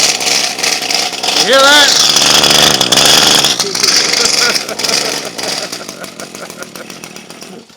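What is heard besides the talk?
weed eater engine running rough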